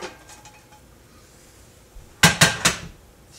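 A crepe is flipped in a frying pan, heard as three quick loud metallic clatters of the pan close together after quieter handling, with no talk.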